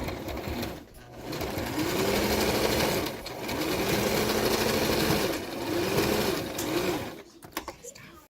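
A sewing machine stitching a medical face mask with elastic, running in steady whirring bursts separated by brief stops, close and fairly loud, with a person talking over parts of it.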